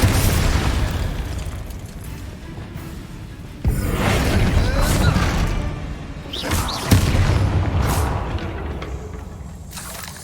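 Bombarda explosion spell in Hogwarts Legacy on hard difficulty: loud, dense booming blasts over a continuous rumble, with sharp detonations recurring every few seconds and crackling bursts between them.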